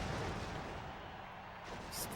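Gunfire from a GameCube wrestling video game, dense rumbling bursts of shots blending into a continuous low roar, loud and busy, no voice heard.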